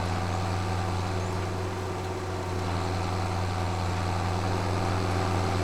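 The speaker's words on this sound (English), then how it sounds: "Can zoom in a little bit so we can hear the engine better" New Holland T8020 tractor engine in Farming Simulator 25 drones steadily under load while heading uphill, a continuous low, heavy hum with no talk over it.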